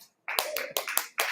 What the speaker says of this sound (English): Let's give a round of applause for this queen